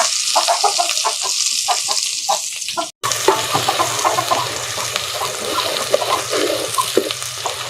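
Spices fry in hot oil for an old-style pulao, giving a steady close sizzle with bright crackles and spatters that briefly cut out and then resume.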